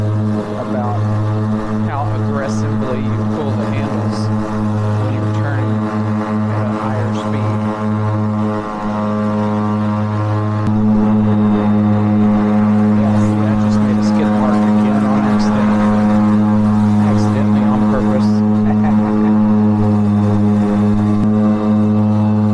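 A Ryobi all-electric zero-turn mower cuts grass with a loud, steady droning hum that rises slightly partway through, while a person talks over it.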